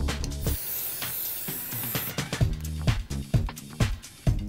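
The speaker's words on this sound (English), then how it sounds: "I like to use my Peter Coppola Steel Hairspray." Peter Coppola Steel Hairspray sprays from a can in a long, close hiss lasting a couple of seconds, over rhythmic background music that carries on after the spray stops.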